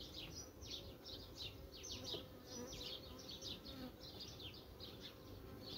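Honeybees buzz at a hive where queen cells are raised, a faint, continuous hum with many wingbeat passes drifting close and away, and no talk.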